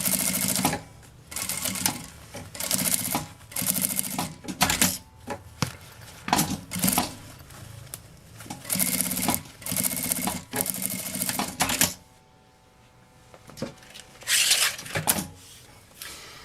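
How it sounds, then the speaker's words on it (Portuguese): A sewing machine with its presser foot stitches a seam on a travel vanity bag, running in rapid, close, loud bursts of a second or two, pausing briefly and then going quiet for about two seconds before one last run, with no talking. "vamos passar uma costurinha aqui com o pé de máquina"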